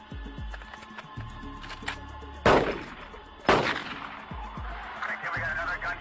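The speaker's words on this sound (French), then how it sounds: "Coup de feu, coup de feu!" Gunfire from a police shootout on a street: two loud, sharp blasts about a second apart, each with a long noisy decay, among fainter clicks and a dull background.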